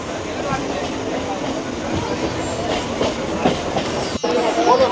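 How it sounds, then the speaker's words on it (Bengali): A local train rumbles and clatters steadily along the rails nearby, arriving at Mecheda station, with rhythmic clacking of wheels and a brief squeal toward the end. "আমাদের ট্রেন এসে পৌঁছেছে তার গন্তব্য স্টেশন মেচেদাতে"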